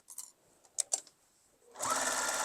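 A sewing machine stitches the seam of a simple fabric tote bag, starting after a few soft handling taps and running as a steady, close, continuous whir to the end.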